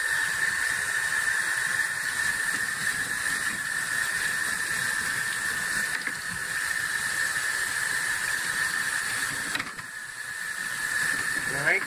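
A steady hiss of running water from a tap flows without a break, close and even, with slight shifts as smoked ham hocks are turned beneath it.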